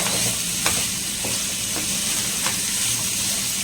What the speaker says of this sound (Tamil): பன்னீர் பாருங்க லைட்டாக சாட்டேஜ் ஆகிடுது